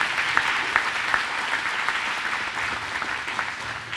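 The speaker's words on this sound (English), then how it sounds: "Ladies and gentlemen, continue your applause momentarily, and let's thank Travis." Steady audience applause at a farm-city breakfast, a dense, continuous clatter of many hands clapping with a few sharper claps standing out, sustained throughout.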